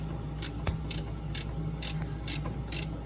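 A ratchet wrench loosens the transmission plug on a Hustler Fastrak zero-turn mower, giving about seven crisp, evenly spaced clicking bursts close up over a steady low engine-like hum.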